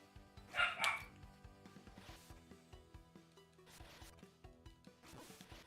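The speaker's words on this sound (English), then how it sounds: "did you hear the puppy?" A puppy barks in a room, a loud burst of several sharp yips near the start, then smaller intermittent sounds over retro game music from Panzer Paladin.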